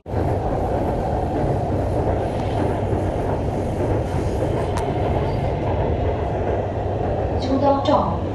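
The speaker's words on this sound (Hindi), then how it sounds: "ये ट्रेन डेरा गुजरा स्टेशन की तरफ जा रही है।" An Orange Line metro train runs between stations, giving a steady loud rumble of wheels and motors inside the car. A brief squeal comes near the end, with no speech.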